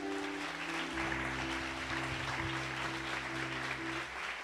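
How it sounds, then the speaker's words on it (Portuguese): A church congregation claps in a broad, steady wash of applause that carries throughout, with sustained organ or keyboard chords underneath. "Você pode aplaudir o Senhor?"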